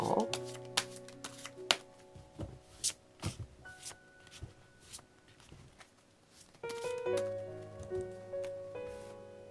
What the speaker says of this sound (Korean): 다시 한번 카드 섞어주고요